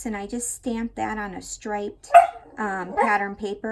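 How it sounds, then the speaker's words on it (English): A pet dog barks briefly around the middle of a craft-paper layout demonstration, a short sharp burst heard under and between steady close-up talking. "I am sorry about my dog."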